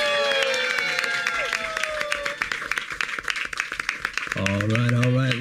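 A studio audience at an unscripted comedy game show applauds steadily as a contestant steps up to spin a wheel, the dense clapping continuing under a host's talk and a brief musical sting near the end.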